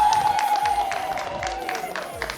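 A crowd claps hands in applause at a gathering with a prophet, a dense, fairly steady patter that fades slightly toward the end.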